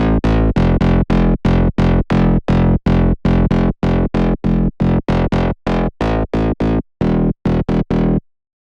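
A distorted, filtered synth bass made in Serum plays a run of short, punchy notes in a steady rhythm, loud and dull-toned, with brief silences between them.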